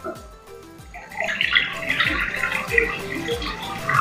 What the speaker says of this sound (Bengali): কড়াটায় আমি জল দিয়ে দিচ্ছি।